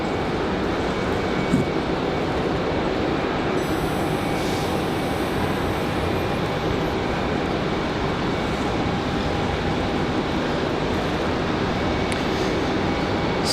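An airliner lands on runway 23 right at Raleigh-Durham airport in snowy weather, a loud, steady jet roar that holds evenly throughout without pause.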